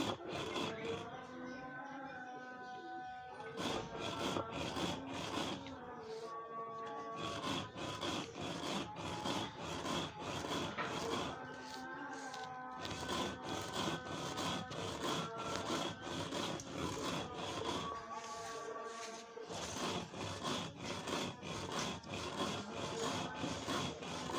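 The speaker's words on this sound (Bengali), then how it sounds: "ডালটাকে বেটে নিচ্ছি।" Black gram lentils ground on a stone slab with a stone roller, repeated rough scraping strokes close by in a steady back-and-forth rhythm, with brief pauses between sets, continuing for the whole stretch.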